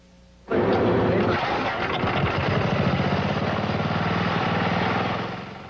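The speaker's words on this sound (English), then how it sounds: "this engine is powered mostly by Mountain Dew along with a bit of gasoline" A small lawnmower engine fuelled mostly by Mountain Dew with a little gasoline starts abruptly and runs steadily with a loud, rapid putter, close by, before easing slightly at the end.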